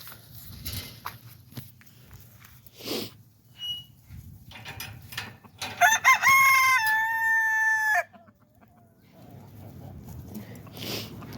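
A rooster crows once, loud and close, a long drawn-out call that rises and then holds before cutting off, over outdoor background noise near a backyard chicken coop.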